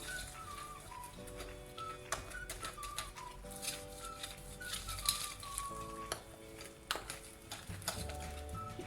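A spoon stirs a batter mixture for crispy fried chicken in a bowl, close, with scraping and clinking strokes in an irregular rhythm, quiet tonal chirps sounding in the background.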